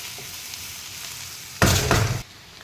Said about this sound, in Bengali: এটাকে আমি ভালো করে ভাজবো,